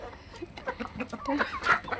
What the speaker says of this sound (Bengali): এই মুরগিটা হইল আমার লেয়ার মুরগি